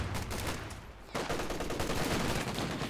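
Heavy gunfire from a Company of Heroes 2 battle: a dense, continuous roar of overlapping shots and explosions, with a brief dip before it surges back at full strength.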